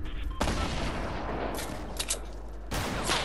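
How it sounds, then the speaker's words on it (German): Pump shotgun blasts in the Fortnite video game, a few loud broadband bursts with brief gaps between them, heard amid continuous game noise with no talk over them. "Also, ich push mit Pumpgun"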